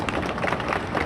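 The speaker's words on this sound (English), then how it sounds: "Let's give him a round of applause." A crowd at the unveiling of the Ali Summit historical marker gives John Wooten a round of applause. The clapping is dense and continuous, moderately loud and fairly close, filling the whole brief moment with almost no talk.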